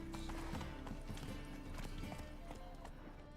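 A horse gallops in The Witcher 3 video game, its rapid, rhythmic hoofbeats steady and close throughout.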